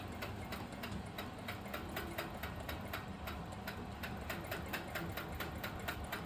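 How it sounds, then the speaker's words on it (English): A sewing machine bastes a quilt at 4 stitches per inch, its needle tapping in a fast, even rhythm over a steady motor hum, close and continuous throughout with no talk. "I'm set at 4 stitches per inch, and I'm just going to baste along here"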